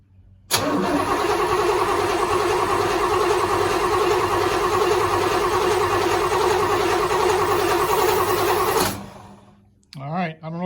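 A car engine starts after fuel pump work, cranking briefly and then catching into a loud, steady run for about eight seconds before cutting off. Someone speaks briefly once it stops.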